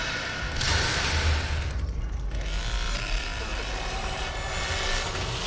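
Ratcheting, clicking mechanical lock-picking noise from The Texas Chain Saw Massacre video game, a steady grinding rattle over a low rumble that continues for the whole span.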